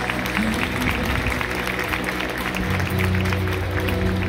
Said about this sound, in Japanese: 拍手をお願いいたします。